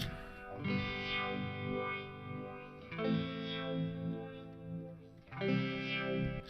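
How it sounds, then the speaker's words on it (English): An electric guitar plays three sustained chords, each swelling with a lush sweeping phaser shimmer and a touch of reverb, no voices. "with the phaser we're getting that really lush sound"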